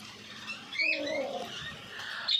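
Pet birds in a home aviary give a few short chirping and whistling calls over a faint background hiss. The calls sound moderately close and come in scattered bursts.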